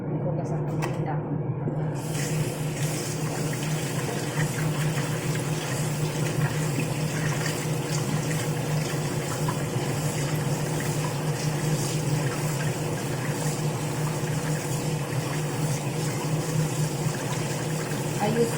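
Tap water runs continuously over leaves being washed, a steady rushing flow that stays even from start to end, with some faint background sound.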